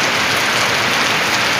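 Heavy rain falls steadily, a loud, dense, unbroken hiss of drops on surfaces with no voices.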